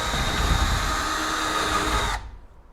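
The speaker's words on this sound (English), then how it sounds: "we are just re-drilling the holes through the aluminum" A power drill whines loudly and steadily at close range, re-drilling holes through aluminum, then cuts off abruptly near the end, leaving quieter background noise.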